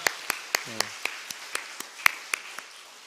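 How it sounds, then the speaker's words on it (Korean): A church congregation at a Wednesday night worship service claps in a slow, even rhythm of about a dozen crisp beats, soft and somewhat distant in a quiet room. "우리 하나님께 영광의 박수 올려드리겠습니다"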